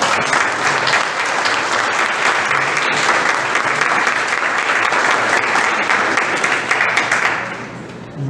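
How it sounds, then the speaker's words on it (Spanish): Steady, loud applause from an audience for a professor after his presentation, a dense wash of clapping holding for about seven seconds before tapering off at the end. "Pedimos un aplauso para el profesor."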